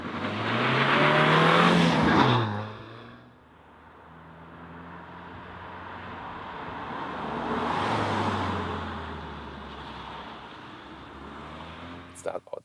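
Skoda Octavia vRS 230 sedan, a 2-liter turbo with manual gearbox, starting off on a test drive: engine revs rise and fall in two swells, loud at first, then a quieter drone building again, with a voice speaking between.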